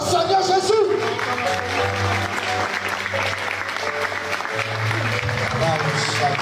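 A church congregation applauds together during a deliverance service, a steady and full clapping that lasts throughout, with a voice speaking over it.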